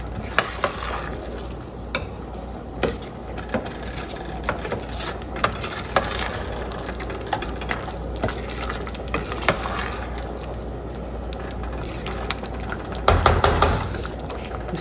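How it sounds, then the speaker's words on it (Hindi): Rice stirred into a gur (jaggery) mixture in a cooking pot, with a spoon scraping and clicking against the pot in a steady, uneven rhythm over a soft bubbling sizzle, close and fairly loud, with no talking. "और साथ ही हम इसमें चावल डाल देंगे। इसको अच्छी तरह मिक्स कर लेंगे।"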